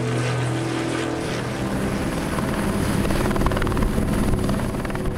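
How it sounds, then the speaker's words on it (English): A helicopter flies overhead, its rotor chopping and engine droning loudly and steadily throughout, close and dominant with no talking. "We are requesting launch the helicopter to the scene."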